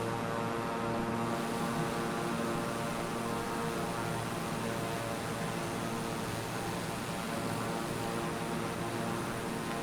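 A propeller airplane in a flight game drones along steadily, its engine hum constant and even throughout with no change in pace.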